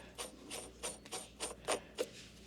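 Ratchet with a 2-inch socket threading a 2-inch nut during a power shift rebuild on an Allis Chalmers 7000 tractor, giving about eight quick, evenly spaced clicking strokes, close and fairly quiet with no talk.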